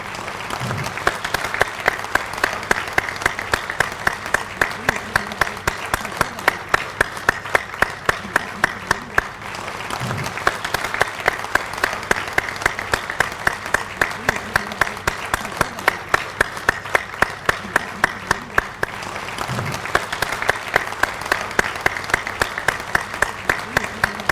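A standing audience at a hotel event claps in a rhythmic ovation for a shield presentation, the clapping roughly in unison, with a few faint low thumps and occasional murmurs beneath the steady beat.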